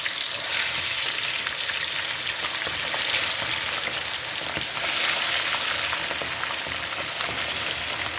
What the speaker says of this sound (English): We can just go ahead and put in the chicken, fry it up.